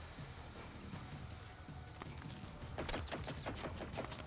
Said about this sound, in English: What is shooting at me?